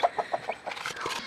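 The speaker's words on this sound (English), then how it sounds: "All the chickens are over there." Backyard chickens cluck close by in a quick series of short, evenly spaced clucks, followed by softer overlapping murmuring from the flock.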